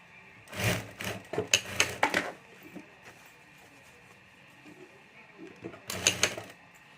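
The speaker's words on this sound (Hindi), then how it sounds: "तो यहाँ भी एक सिलाई कर देता हूँ मैं" A sewing machine runs stitching a border on a homemade pencil pouch, in several short bursts of rapid whirring separated by pauses, close and moderately loud.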